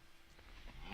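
A cow lows once in the Minecraft video game, a short, fairly quiet moo standing alone over light background noise.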